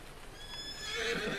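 A horse in Farming Simulator 19 gives a short, loud neigh with clip-clop hooves, heard alone and rising in strength toward the end.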